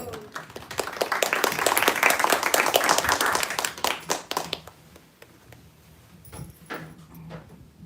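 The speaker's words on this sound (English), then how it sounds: "let's welcome Prabhu with a round of applause" A spiritual gathering audience gives a round of applause to welcome a speaker, a dense burst of many hands clapping that swells for about four seconds, then thins to scattered claps that trail off.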